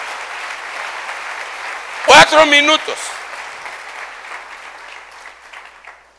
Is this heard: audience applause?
yes